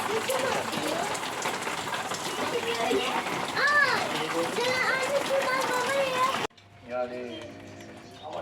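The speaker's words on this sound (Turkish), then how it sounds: "Yağmur yağıyor." Steady rain patters and splashes, a dense hiss with children's voices chattering over it, then it drops to a quieter room with talk.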